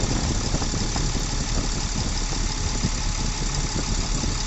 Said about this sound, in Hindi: इंजन का आप साउंड सुन लीजिए काम होने के बाद का